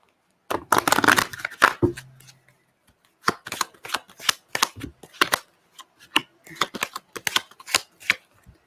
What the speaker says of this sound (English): Make sure these are shuffled.